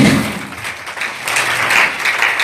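A church congregation applauds and cheers the Lord during a worship service, a loud dense wash of clapping and voices that swells and carries on throughout.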